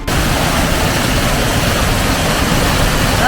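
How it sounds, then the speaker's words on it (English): Aira Force waterfall in the Lake District roars as a loud, steady broadband rush of falling water, continuous and close throughout with no voices. "That's a waterfall, isn't it"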